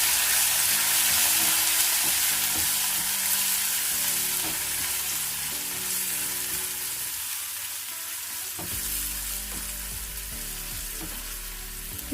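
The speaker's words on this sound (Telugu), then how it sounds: "2 ఎండుమిర్చి, అలాగే పసుపు, 1/2 స్పూన్ వరకు పసుపు. ఇవన్నీ కొంచెం వేగాలి." Curry leaves, two dried red chillies and half a spoon of turmeric fry in hot oil in a pan, giving a steady, close sizzle with occasional stirring clinks and no speech.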